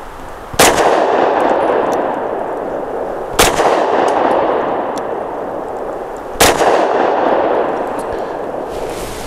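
Three loud, sharp pistol shots from a ported Taurus GX4 firing Norma Range and Training 65 grain frangible ammunition, spaced about three seconds apart, each with a brief ringing decay over steady outdoor background noise.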